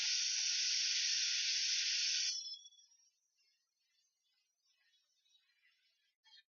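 An airbrush sprays red oxide brown paint in a continuous close hiss for about two seconds, then cuts off, leaving near silence with faint small sounds afterward.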